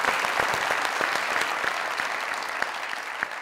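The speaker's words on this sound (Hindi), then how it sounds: "रहमान बाबा साहब के लिए तालियां" A studio audience at a comedy talk show breaks into brisk, dense applause, a steady patter of many hands clapping close by for about three seconds with no talk over it.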